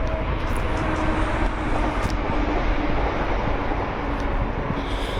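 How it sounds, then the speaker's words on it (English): Train on the Stirling to Perth main line passes during a countryside walk, a steady loud rumbling roar filling the whole stretch without letup. "So you can probably hear there that there's a train that went past."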